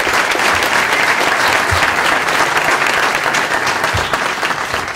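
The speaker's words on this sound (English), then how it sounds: "This will be the one time tonight when you can give our candidates a round of applause" Loud, dense applause from an audience at a Kansas Democratic gubernatorial candidate forum, a steady wall of clapping that holds for several seconds before easing slightly at the end.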